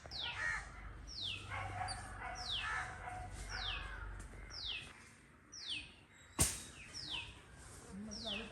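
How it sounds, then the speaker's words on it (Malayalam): Small birds at a rainy outdoor camp chirp outdoors after rain in a steady series of sharp, repeated, descending calls, close by and evenly spaced. A dog yelps faintly in the background, with one sharp knock near the end. "ഇഷ്ടംപോലെ കിളികളുണ്ട് കേട്ടോ"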